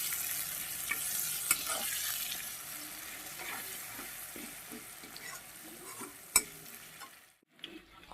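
Bhola fish pieces fry in a pan with salt and turmeric, giving a continuous sizzle with occasional utensil clinks from stirring; the sizzle fades and nearly drops out near the end.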